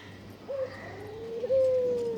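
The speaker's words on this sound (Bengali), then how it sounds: "এই দুইটা ঘুঘু খুব সুন্দর করে ডাকে" A dove coos twice nearby in a pigeon-keeping loft, a short low call followed by a longer drawn-out coo, over quiet background hum.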